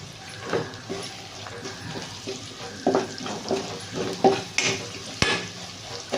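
Ginger garlic paste frying with onions in a pan for gongura egg rice, a moderate sizzle with irregular clanking and scraping stirs, one sharp knock near the end.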